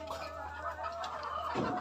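Chickens cluck and murmur continuously nearby during egg collection, a busy flock chattering over a low steady hum, with no one talking.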